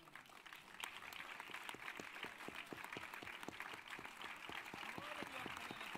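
An audience at a public event applauds a New York nurses' association figure, heard as a faint, distant recording with rhythmic, evenly spaced claps over a crowd wash, steady for the whole stretch.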